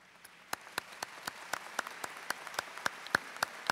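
Applause from a college commencement ceremony audience honoring a degree recipient: a steady, fairly faint patter of clapping with a few sharper, louder claps standing out, heard from a distance without talk.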